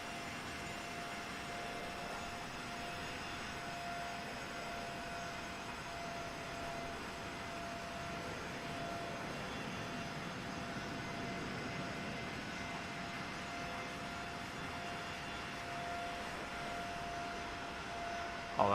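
Engine of a Spirit Airbus A321 in Microsoft Flight Simulator 2024, a steady, even jet drone with a faint tonal whine that holds unchanged throughout, with no talk.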